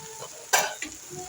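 Egg and prawn curry with tomatoes is stirred in a pan over a steady low sizzle. One distinct scrape of a spoon sounds close, followed by a lighter second scrape. No one speaks.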